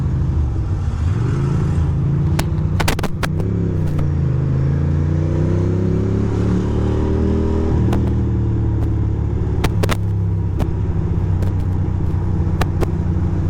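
A motorcycle ridden on an open road accelerates with a loud, continuous engine drone whose pitch climbs through the gears, with a few sharp clicks and wind buffeting close to the mic.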